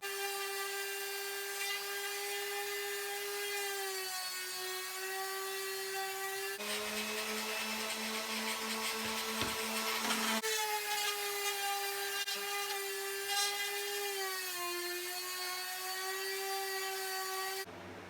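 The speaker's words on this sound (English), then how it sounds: "Now what I'm going to do is sand the faces of this." A power sander works across the faces of a walnut and epoxy river serving tray, a steady close whine with a shifting harmonic tone and a harsher, louder stretch midway, no talking.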